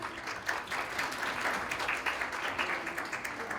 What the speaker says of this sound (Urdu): بھرپور تالیوں میں آپ استقبال کریں